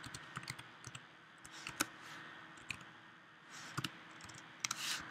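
Someone types code on a computer keyboard, producing quiet, close, irregular key clicks in short flurries with occasional louder taps over a faint background hum.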